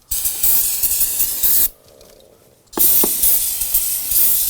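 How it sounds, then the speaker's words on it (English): Aerosol brake cleaner sprays in two long, loud hissing bursts with a short pause between, aimed at the brake master cylinder, lines and connectors of a 2005-2009 Subaru Legacy. "Go ahead and spray this down."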